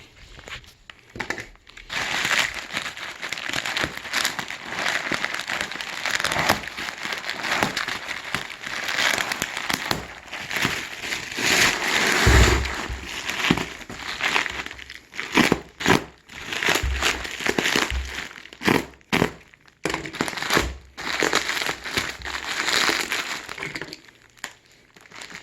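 Packing tape being peeled and torn from a cardboard shipping box for a gun, making loud, close crackling and ripping in long bursts with crinkling cardboard between.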